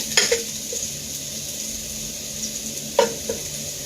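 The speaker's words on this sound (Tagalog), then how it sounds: "After I saute, I need to make it brown the meat" Meat sautéing with garlic, onion and tomato in a pan, a soft continuous sizzle with two sharp utensil scrapes or clinks against the pan, no voices.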